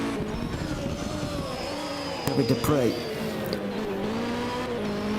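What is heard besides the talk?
Opel Ascona hill climb car racing through chicane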